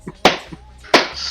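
Two sharp, close hand claps roughly three-quarters of a second apart, each loud and crisp, with a few faint taps and murmurs between them.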